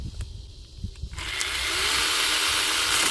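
A cordless chainsaw starts after a moment of quiet clicking and then runs at a loud, steady whine as it cuts through a piece of wood about an inch thick.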